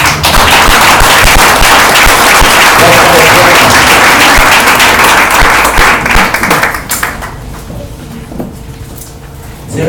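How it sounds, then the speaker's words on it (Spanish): Loud congregation applause in a church service, dense crowd clapping filling the space for several seconds before dying away into quieter room noise with scattered sounds. "¿Puedes dar un aplauso ahí?"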